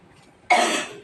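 A single sharp cough bursts out close to the mic after a quiet moment, then trails off.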